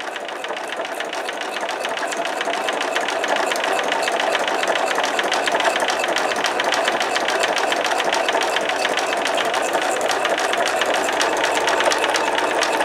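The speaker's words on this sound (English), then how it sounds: "It does not hurt your sewing machine as long as you clean your sewing machine when you're done." A sewing machine stitches through paper steadily and continuously up close, its rapid needle chatter forming an even mechanical buzz throughout.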